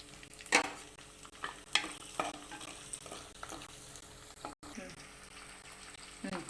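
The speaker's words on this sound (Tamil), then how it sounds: "பட்டை கிராம்பு பெருஞ்சீரகம் சேர்த்துக்கலாம் பச்சை மிளகாய்" Cinnamon, cloves, fennel and green chili sizzle and fry in hot oil for a Chettinad chicken gravy. A spoon stirs the pan with scraping strokes, and the steady crackle carries a faint voice in the background.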